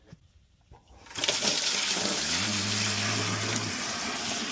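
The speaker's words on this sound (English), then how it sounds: "now we need some water for that tub, so might as well get it out of this tank" A large hose runs water from an aquarium tank into a tub, beginning as a quiet trickle and then surging into a loud, steady rushing gush, with a low pump-like hum partway through.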